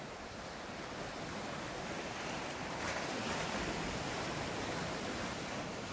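Sea waves of the southwest Pacific Ocean around Tonga, a steady loud wash of surf noise filling the whole stretch with no pause or break.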